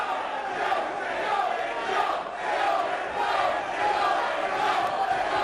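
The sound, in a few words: wrestling crowd heckling AJ Styles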